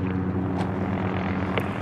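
A steady, droning rotor and engine hum fills the clip, loud and continuous, as helicopters approach in the video game Call of Duty: Modern Warfare.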